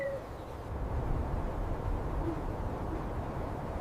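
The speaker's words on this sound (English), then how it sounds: "the largest owl species on Earth, the Eurasian eagle owl" A Eurasian eagle owl, the largest owl species, hoots faintly and low, nearly buried in a steady wash of outdoor background noise.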